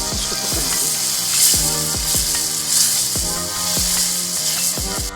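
Tomato paste for pizza sauce sizzles and fries steadily in a pan, with a continuous bubbling hiss and repeated soft scraping strokes of a spoon roughly every second, close and fairly loud with no voices.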